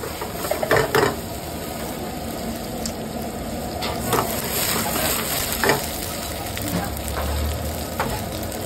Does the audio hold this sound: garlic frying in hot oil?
yes